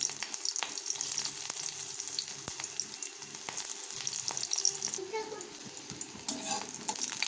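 Green chillies and garlic frying in hot oil in a kadai for a red amaranth leaf dish, a soft steady sizzle with occasional spoon taps and faint stirring, fairly quiet and close.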